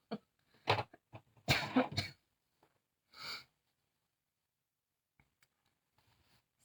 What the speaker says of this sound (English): Sorry about the little coughs and the sniffles.